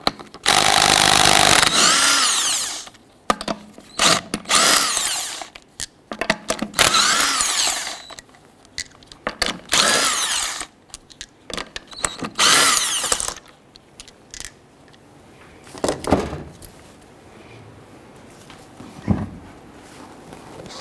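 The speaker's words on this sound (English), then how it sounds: "Using a 19mm socket, go ahead and loosen and remove the lug nuts" Power tool with a 19mm socket loosening and removing the lug nuts on a 1997-2006 Jeep Wrangler front wheel, in loud whirring bursts separated by pauses, clinks and shop handling noise.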